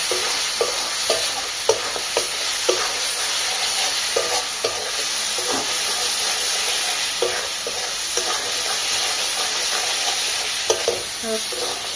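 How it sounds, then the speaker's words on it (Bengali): Spice paste with ground coriander and sugar sizzles steadily in hot oil for katla fish kalia, while a utensil scrapes and stirs the pan in regular clinks, close and unbroken, without talk. "কষে নিতে হবে যতক্ষণ না মশলা থেকে তেল ছাড়বে"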